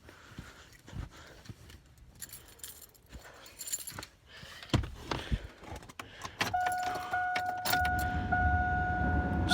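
Keys jangle and clink in scattered bursts, then a car with a worn-out exhaust cranks and starts, settling into a rough, louder idle that carries on to the end.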